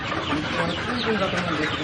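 Golden (Sonali) chickens on a 12,000-bird poultry farm cluck and murmur together in a dense, continuous flock chorus, with faint voices blending into the steady background.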